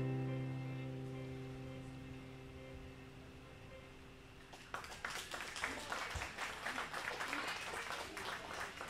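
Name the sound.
audience applause at live concert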